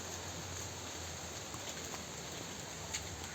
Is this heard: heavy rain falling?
yes